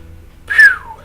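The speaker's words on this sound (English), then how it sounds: "didn't mean to whistle so loudly there" A single loud whistled note from a man, rising sharply then sliding downward, lasting about half a second over a faint low background hum.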